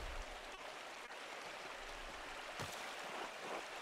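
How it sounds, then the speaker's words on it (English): Steady broadband rush of a waterfall in a video game, fed by mountain snowmelt near an abbey, flowing continuously and evenly at moderate distance with no talk. "The waterfall must flow down from the snowmelt in the mountains above the abbey."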